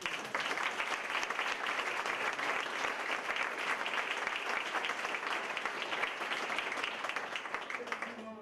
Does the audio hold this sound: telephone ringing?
no